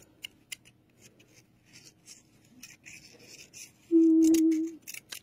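Scissors trim a paper gnome hat: faint scattered paper handling, then one short, close, steady snipping cut near the end.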